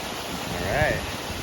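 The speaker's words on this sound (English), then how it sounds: "Got this really pretty waterfall here." Steady, broad rushing waterfall noise in a canyon fills the whole stretch, with a brief voice-like sweep rising and falling near the middle.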